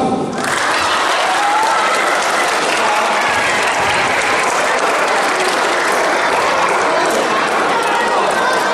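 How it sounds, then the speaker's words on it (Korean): Students at an elementary school reading-debate lecture burst into loud, sustained applause that holds steady throughout, with a few voices mixed into the clapping. "정답 박수."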